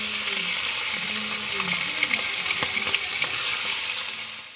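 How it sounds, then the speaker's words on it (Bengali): Hilsa fish pieces fry in hot oil, giving a dense, steady close-up sizzle with small crackles and a few soft utensil taps, fading slightly at the end. "এবার আমি এই গরম তেলে ইলিশ মাছটা ভেজে নেব"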